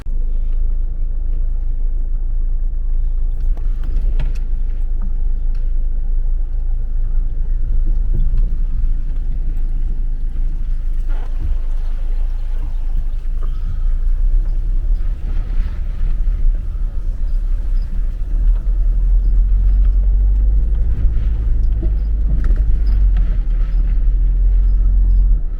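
A car drives along the road on a long country trip with a dog aboard, a steady low rumble of engine and tyre noise continuous throughout, close and fairly loud with no talking.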